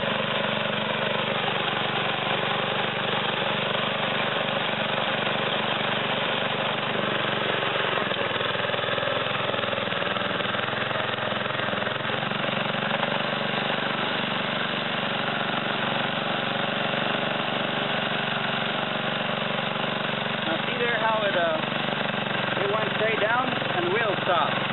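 A small garden plow's engine running steadily, a constant mid-pitched motor drone lasting throughout, with muffled voices faintly under it.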